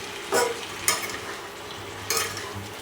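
Ingredients are stirred and mixed in a frying pan with a soft sizzle underneath, while three sharp scraping strokes of a utensil stand out against the pan.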